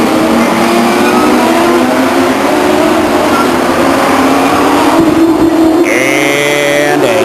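Stock race cars at Stockton 99 Speedway, a continuous loud engine drone with shifting pitch as cars pass, and a higher revving engine rising near the end.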